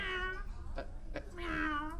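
A person imitating a cat's meow while pretending to be a fierce 800-pound tiger: drawn-out, wavering tonal calls at the start and end, with brief sharper sounds in between, close and fairly loud.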